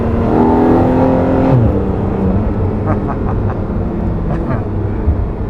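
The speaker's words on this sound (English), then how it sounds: "All you want to do is get on it to hear that intake of that flat 6" A Porsche Boxster's flat-six engine revs hard, its intake roaring in a rising then sustained tone, loud and close, with a voice speaking over part of it.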